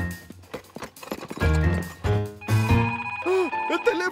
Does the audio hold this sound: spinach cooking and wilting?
no